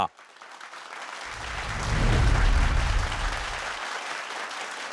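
Studio audience applause welcoming a guest on a Kerala business pitch TV show, swelling from scattered clapping into a loud full round and then tapering off, with a little crowd murmur.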